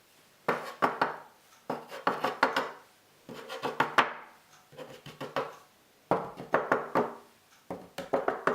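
Flour is folded bit by bit into melted butter for homemade puff pastry, making bursts of close scraping and soft clattering utensil strokes against a bowl, grouped in short busy spells separated by brief pauses, with no speech.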